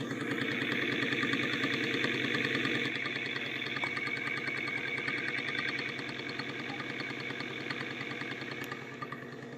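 Electric e-bike differential motor running steadily with a faint internal catching, ticking rattle, a continuous mechanical whir that eases slightly in level over the span, with no talk.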